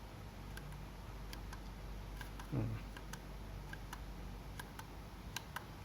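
A Minolta SR101 film camera's shutter speed dial turns through its settings with a string of faint, small mechanical ticks spaced irregularly over a quiet room hiss.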